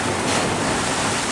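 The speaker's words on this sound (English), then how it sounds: "The tide has now come in all the way up the front." Sea waves wash in at high tide along Blackpool seafront, a steady broadband rush of surf with a faint wind edge, continuous and fairly loud with no voices.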